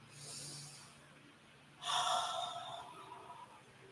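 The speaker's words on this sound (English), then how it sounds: "Deep breath in. Another deep breath in." A single deep breath drawn in during a guided meditation, audible as a soft, airy inhale that swells midway and slowly fades, with faint low voice-like sound earlier and quiet room tone.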